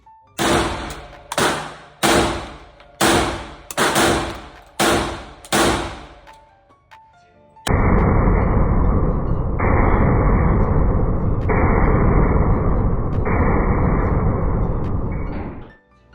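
JTS M12 T1 airsoft splat-gun shotgun fires six sharp, loud shots in a steady rhythm, each ringing briefly, then a long loud continuous hiss-like noise follows.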